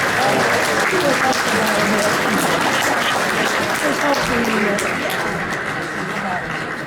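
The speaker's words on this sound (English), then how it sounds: "Let's give him a round of applause" Loud sustained applause from a large audience at a West Point class reunion honoring a 96-year-old graduate, dense clapping that fills the hall with voices mixed in, tapering slightly toward the end.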